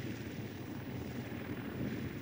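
A restored classic aircraft at Duxford airfield sends out a steady, broad engine drone at moderate distance, continuous and without voices.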